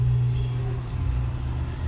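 A 1994 Chevrolet Monza GLS engine idles with a steady, moderately loud low hum and slight unevenness, continuous throughout with no voices over it.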